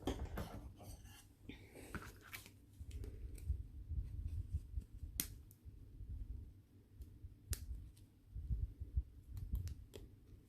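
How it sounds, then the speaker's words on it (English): Small scissors snip several times with crisp, close clicks, spaced irregularly over a low background rumble. "Let's see if we can get that with the little scissors."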